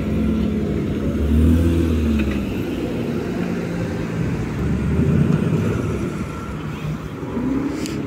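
Low engine rumble of a Porsche at a historic car race meeting at Laon, steady and moderately loud throughout with a slight swell, rather than a distinct pass-by.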